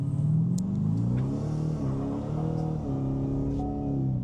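A Chevrolet Corvette C8 engine revving loudly nearby, rising and falling in pitch as it rumbles through several throttle bursts.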